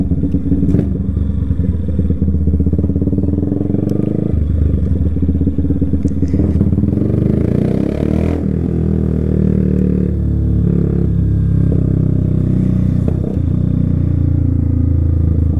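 A Yamaha Fazer 250cc motorcycle revs repeatedly at night, its engine rising and falling close by, with clattering mechanical noise and no talking.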